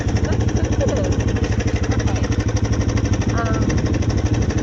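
A 250ex dirt bike engine revs with a rapid, loud, throbbing pulse, close and continuous, rising slightly as throttle is added, with talk audible over it.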